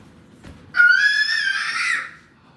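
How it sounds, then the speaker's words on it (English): A child screams at high pitch, one loud sustained shriek lasting over a second that rises and then fades, heard close and alone with no talk over it. "why are you screaming?"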